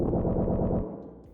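A sliced, heavily distorted and pitched-down music sample for producing a pop track stutters in fast low rhythmic chops for under a second, then smears into a fading low tail.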